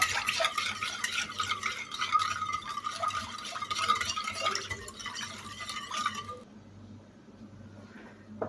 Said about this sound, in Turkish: Bunları maya eriyene kadar karıştıralım.